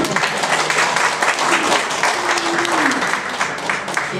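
A church congregation at a monthly Mass applauds warmly and continuously in a hall, with some voices heard under the clapping.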